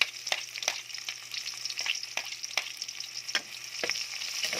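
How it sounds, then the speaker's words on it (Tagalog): Onions sautéing in a hot pan for a chicken tinola, giving a steady close sizzle broken by repeated scraping stirs, with no talking. "Haluin natin maigi ang ating sibuyas guys."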